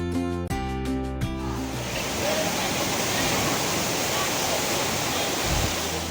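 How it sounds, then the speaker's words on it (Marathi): Big surf at Suluban beach in Bali, heard as a continuous close roar of crashing waves. A brief tonal sound and a short voice sit at the very start before the surf takes over. "इथल्या लाटा खूप हाय लेवलच्या आहेत"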